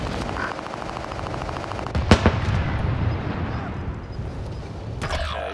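Heavy gunfire in Warzone Caldera, a dense rattling machine-gun stream with a sharp close impact crack midway, then rumbling battle noise and another burst near the end.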